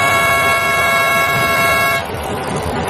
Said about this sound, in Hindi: तभी पीछे से एक और लंबा हॉर्न बजा